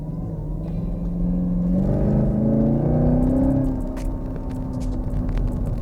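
A 2019 Chevrolet Camaro pulls out and accelerates, its close, loud engine rumble climbing in pitch before easing back to a steady drone, with no talking.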